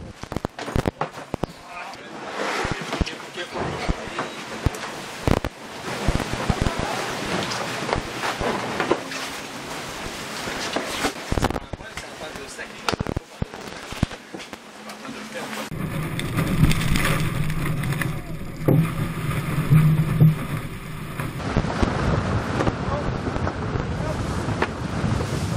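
Steady wind buffets the microphone aboard a sailboat beating upwind and tacking against the current, a continuous roar with water and hull noise, growing rougher and louder in the latter part.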